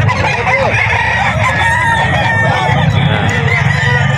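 Gamecock roosters, stags and sweater-breed birds crowing and clucking in a loud, dense chorus close by, with calls overlapping continuously and faint voices underneath.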